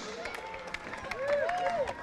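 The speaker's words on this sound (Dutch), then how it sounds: "Ik wil een applaus voor de bedboys voor hun eigen bed" Applause from a festival-week crowd for a team in a bed race. Brief, fairly faint clapping and crowd noise runs under a voice, which carries on talking over it.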